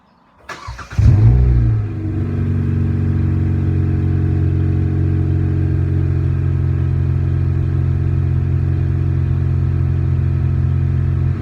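A 2020 Hyundai Veloster 2.0 engine with its muffler removed cranks and starts, then settles into a loud, steady, raw-sounding drone that holds unbroken for about ten seconds.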